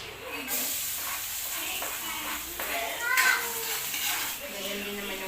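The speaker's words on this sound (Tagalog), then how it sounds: "Igisa na natin ang bawang at saka sibuyas." Garlic and onion sizzle and hiss in a pan for beef caldereta, with stirring and scraping of a utensil against the metal, moderately close, and a voice talking faintly.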